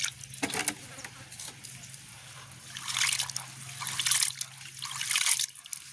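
Prawns being rinsed by hand in water for a village-style cooking session, a soft continuous trickling and splashing at close range, swelling louder in the second half with a faint steady hum underneath.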